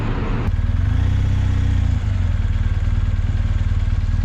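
Motorcycle riding through a quiet, touristy town in Ecuador, its engine a steady, loud, close mid-pitched drone with a brief clatter at the start.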